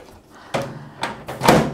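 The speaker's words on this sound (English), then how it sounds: "Let's shut the door" A grey Toshiba microwave oven with air fryer has its door swung shut with several soft thuds and latching clunks, the last one loudest, heard close up with no talking.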